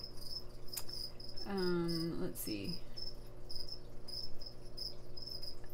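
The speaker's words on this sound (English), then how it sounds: "I'll dust the crickets with the supplement and just set him in there, and sometimes he'll eat them" Feeder crickets kept for a gecko chirp in a steady, high-pitched trill that carries on throughout, with a brief spoken voice breaking in near the start.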